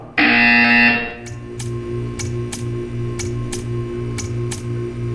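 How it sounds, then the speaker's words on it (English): In Portal 2, a loud sustained buzzer tone sounds for about a second, then gives way to a low humming drone with a steady series of sharp ticks repeating at a regular pace. "You will hear a buzzer"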